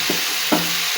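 Palakkad-style eggplant (kathirikka) curry fries in a pan under a constant sizzle, with two soft scrapes of a spoon stirring it.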